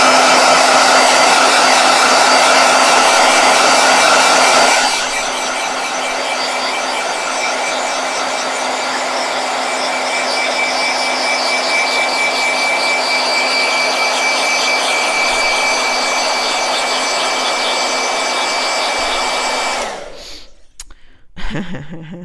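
Hand-held hair dryer drying a watercolor page in a travel journal, a loud close whirring blast that runs steadily for about twenty seconds, shifting to a lower setting early on, then shutting off with a few handling knocks.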